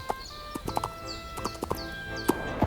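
Horse hooves clip-clop in a quick, uneven series of sharp knocks as a prince rides out, with faint birdsong and a steady background tone behind them.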